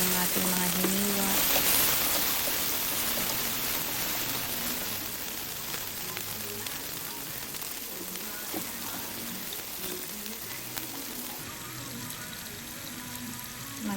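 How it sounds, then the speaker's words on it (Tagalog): Sliced ingredients fry in oil in a pan, making a dense, steady sizzle like rain that starts loud and settles slightly, close by, with occasional stirring and light background voice. "init tayo ng kawali, lagyan ng mantika, tapos ilagay na natin yung ating mga hiniwa"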